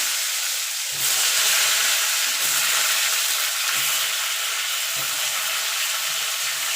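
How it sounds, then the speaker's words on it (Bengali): Pointed gourd (potol) goes into hot oil in a wok with a sudden loud hiss that settles into a steady, close sizzle, with no voices over it. "তেলটা গরম হয়ে গেছে এবার পটলগুলো আমি ভেজে নেবো"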